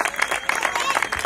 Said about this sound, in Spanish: Un aplauso muy fuerte a ambas